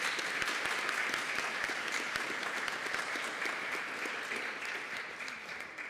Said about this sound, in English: So a round of applause again for Professor Packets.